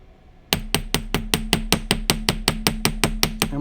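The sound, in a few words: hammering a wire bangle with a texturing hammer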